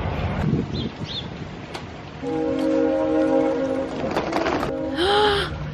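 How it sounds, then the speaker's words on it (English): A train passes near a spring garden, rumbling steadily with a sustained horn tone in the middle and a brief higher whistle-like blast near the end, over rustling and light background noise. "Gotta run and see the train."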